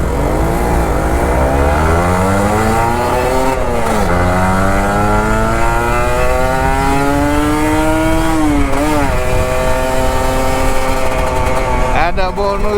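A Kawasaki Ninja RR 150 two-stroke motorcycle idles in stop-and-go traffic, its engine loud and close, rising and falling through several short throttle blips with pitch sweeping up and dropping back.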